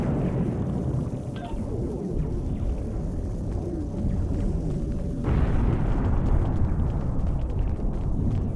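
A force field emitter destroyed during combat in the Star Trek Online video game: a dense, continuous low rumble and roar lasting several seconds, with a louder burst surge midway that carries on to the end.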